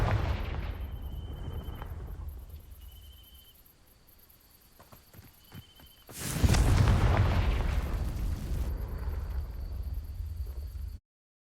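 A Confringo fire spell bursts in a video game, igniting dry vines: a sudden loud whoosh-blast that swells into a sustained roaring crackle of flames after a quiet stretch with faint game tones.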